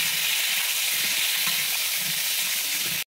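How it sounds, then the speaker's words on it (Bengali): Pointed gourd (potol) frying in hot white oil in a wok, a steady dense sizzle and hiss running unbroken and close for about three seconds before cutting off abruptly. "আমি এবারে পটলগুলোকে ভেজে নেব।"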